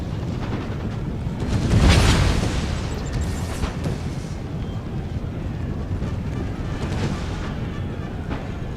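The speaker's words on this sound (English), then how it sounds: "You can still hear those little things going on. Bloody hand mortars." Hand mortar explosions on an Empire: Total War battlefield, a deep rumbling boom swelling early and then a steady distant roar of blasts and battle noise, with no one talking.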